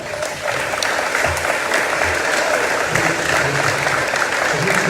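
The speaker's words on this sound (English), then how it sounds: "I'll give her a round of applause" Steady, loud applause from an audience at a community forum on racial injustice, a dense sustained clapping that carries on throughout with faint voices mixed in.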